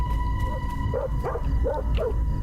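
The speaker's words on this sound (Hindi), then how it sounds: "किसे भौंक रहा है?" A dog barks in a house at night during a neighborhood power outage: a handful of muffled, fairly distant yips and barks in an irregular rhythm over a steady background hum.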